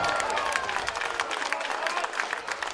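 Rugby league crowd applauding a Workington Town defensive stand against Featherstone Rovers, a steady wash of clapping and cheering with a commentator talking over it.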